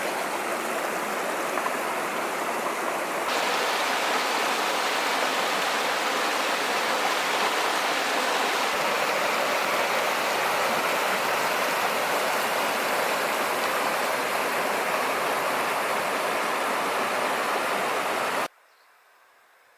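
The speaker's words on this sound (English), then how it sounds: "A beautiful swimming hole at Bridge Creek." Bridge Creek runs past a swimming hole in Olympic National Park as a steady, loud broadband rush of flowing water, constant for about eighteen seconds before it cuts away abruptly near the end.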